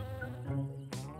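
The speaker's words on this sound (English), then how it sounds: "Oh, these bees get really riled up." A close, droning buzz of African honeybees with a steady pitch, briefly cut by a sharp rustle near the end.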